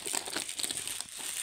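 A boy's football toy set's plastic packaging is torn open and crinkled, a close, continuous crackling rustle lasting a second and a half.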